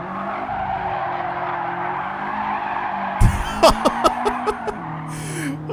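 A car with a VVT-i engine being drifted in Gran Turismo 7: a steady engine and intake drone, then a sudden lurch into bursts of tire squeal and skidding as it slides, loud and close, with a few brief vocal sounds mixed in.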